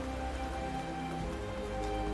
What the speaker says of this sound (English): Went from being like a sunny day in Gridania to now it's raining once again